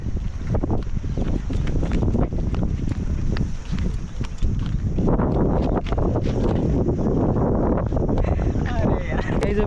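Strong wind buffets the microphone outdoors with a constant, loud, low rumble through the whole stretch while a person talks over it.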